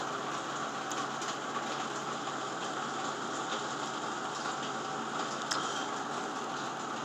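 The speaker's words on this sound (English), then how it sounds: "Stopped raining for a little bit," Continuous rain from a severe thunderstorm in the Bangor/Breedsville, Michigan area falling steadily, a soft even hiss with a few sharper drips and taps standing out now and then.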